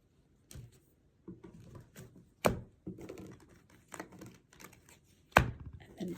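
Tarot cards being laid out on a table in three piles, with soft slaps and taps arriving in irregular bursts, a few sharper close-up clacks among them, and no talking.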